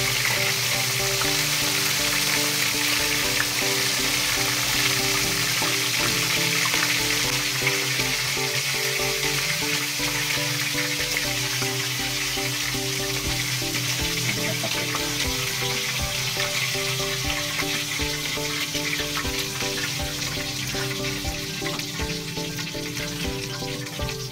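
Shrimp for salted egg shrimp fry in hot oil with a continuous loud sizzle and crackle, heard up close over background music.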